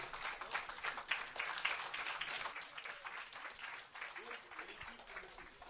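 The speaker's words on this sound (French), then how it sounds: "Les applaudissements." Festival audience applause at a 2022 film festival screening event, a dense, fairly quiet wash of clapping with some voices mixed in, fading slightly toward the end.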